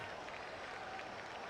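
Crowd applause from the Blood Bowl 2 video game rises as a soft, steady wash of clapping and cheering, faint and distant, with no voices.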